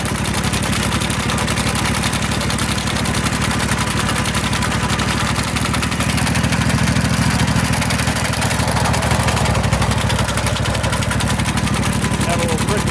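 A Simplicity 2210 V-Twin garden tractor running in first gear drives a sickle mower through brush, giving a loud, steady, rapid mechanical chatter of engine and cutter bar that stays close and continuous throughout.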